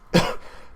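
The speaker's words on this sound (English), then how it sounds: "I still have that cough" A single short, harsh cough from a person, loud and close, fading quickly into quiet.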